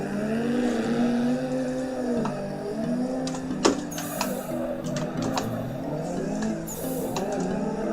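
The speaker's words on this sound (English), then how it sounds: "understeering with cold tires into the wall just about, because that's just what you do" Drift car in Assetto Corsa on cold tyres, engine droning and revving with gear-change blips and short tyre squeals, under steady talk.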